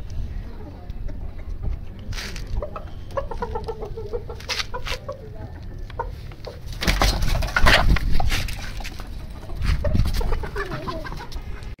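Aseel chickens cluck and squawk nearby in a farmyard, with a few louder flurries of agitated calls and a person talking in the background.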